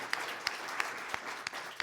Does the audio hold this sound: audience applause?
yes